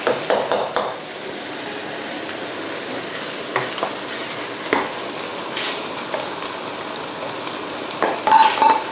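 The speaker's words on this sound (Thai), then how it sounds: "เดี๋ยวเราจะใส่ข้าวลงไปค่ะ" Rice being stir-fried with set egg in a pan for Yangzhou fried rice, a steady close sizzle with scraping and stirring clatter throughout, a few louder spatula knocks near the end.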